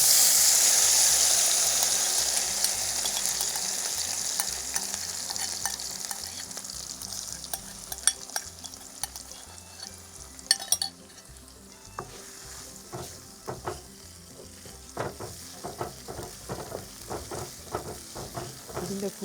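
Ground paste of green chilli and garlic sizzles steadily in a pan for paneer masala curry, a dense continuous fry with scattered crackles and pops throughout, no talk.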